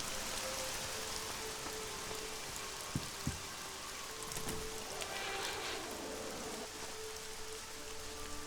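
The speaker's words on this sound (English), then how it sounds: "Sound effect for rain just goes in like that." Rain from the video game ELEX falls as a steady, dense hiss on surfaces, with a few sharp knocks and faint clattering in the background.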